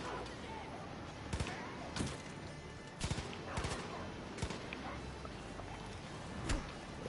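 Far Cry 5 gunfire crackles in scattered sharp shots and short bursts at a moderate distance, spread across several seconds beneath steady background noise while a player talks.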